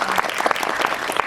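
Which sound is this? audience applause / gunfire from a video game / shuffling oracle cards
audience applause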